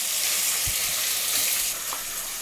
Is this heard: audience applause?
no